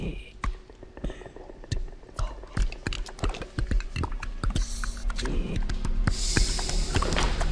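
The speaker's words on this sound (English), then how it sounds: "this strange alien clicky noise language that was on the Disclosure Day trailer" Strange alien clicking language from a movie trailer: dense, irregular sharp clicks and pops in quick bursts, fairly loud, with rumbling background sound swelling toward the end.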